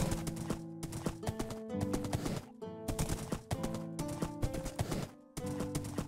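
Steady clip-clop of a fast horse's hooves at a quick, even gait in Minecraft, with layered tones playing underneath, heard up close.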